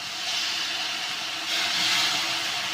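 Soy sauce added to a hot pan of chicken chow mein, giving a steady loud sizzle and hiss that swells briefly partway through, with no talking.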